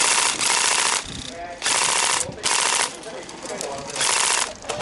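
Airsoft guns fire in rapid bursts during an outdoor skirmish, four loud full-auto strings of clattering shots separated by short gaps, with players shouting nearby.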